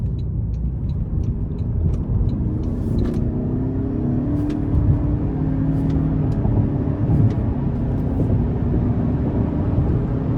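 A 2025 Toyota Camry SE in sport mode pulls hard; a steady, heavy engine and road rumble fills the cabin throughout, with no voices over it.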